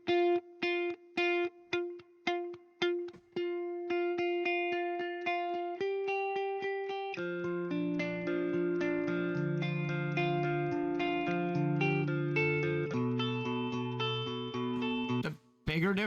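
Sampled electric guitar from the Shreddage 3.5 Telos library, playing clean single notes in short plucked repeats that give way to sustained melodic lines and fuller overlapping tones, moderately loud with no talking.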